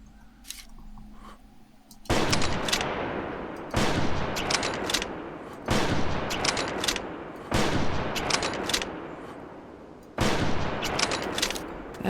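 Loud gunfire rings out in a prehistoric hunting video game, a series of sharp shots spaced a couple of seconds apart, each trailing a long echoing decay.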